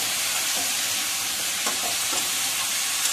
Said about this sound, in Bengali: তরকাটা ঢেলে দিলাম।